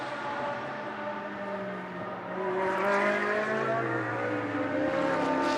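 Onboard with a BMW GT race car at speed in the Blancpain Sprint Series at Moscow: loud, continuous engine howl with pitch sweeps as it revs through the gears.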